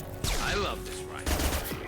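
Weapon fire in Mass Effect 2, a dense burst of gunfire crackling loudly over music with a second volley starting partway through.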